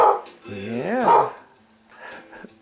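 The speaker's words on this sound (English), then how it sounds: "Is that doggy barking?" A dog barks and yips close by with a rising, whining tone, one drawn-out bark followed by softer yelps, while people talk nearby.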